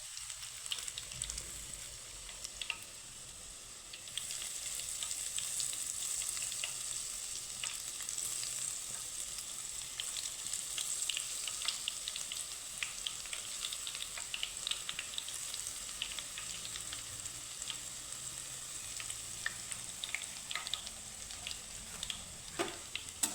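Boondi batter drops fry in very hot oil while being stirred, giving a steady, soft sizzling hiss with faint bubbling and occasional stirring touches. No voices are heard.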